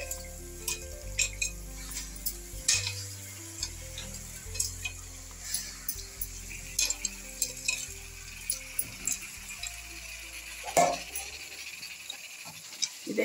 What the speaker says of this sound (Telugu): ఇది కొద్దిగా ఫ్రై చేద్దాం